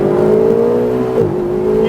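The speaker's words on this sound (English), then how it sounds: "The exhaust note you're hearing here is pretty representative of what the car sounded like." A Lotus or Ferrari sports car's exhaust drones steadily on a race track, a rich low engine note that dips briefly as the revs shift, loud and close.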